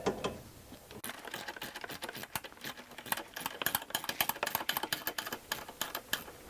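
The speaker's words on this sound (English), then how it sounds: "Let's just go ahead and tighten these down." Rear lower control arm bolts on a Jeep Liberty are tightened with a ratchet, giving a close, rapid series of sharp clicks in quick bursts that grow busier toward the end.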